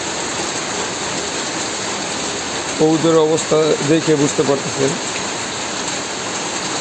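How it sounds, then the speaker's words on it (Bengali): Heavy morning rain pours steadily onto a pigeon loft, a dense continuous hiss that runs the whole time, with someone talking over it for a couple of seconds midway. "আজকে সকাল সকাল প্রচুর পরিমাণে বৃষ্টি হচ্ছে।"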